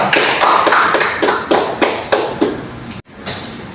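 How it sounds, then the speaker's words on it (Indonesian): Classroom applause from a group of students: a string of about eight sharp, fairly loud clapping bursts in an uneven rhythm, with a brief gap before a last burst. "Kasih aplaus."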